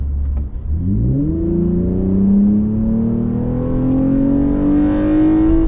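A tuned Toyota Camry with a cold air intake and aftermarket exhaust accelerating at full throttle from low speed, a loud close engine note rising steadily in pitch through one long pull, no voices.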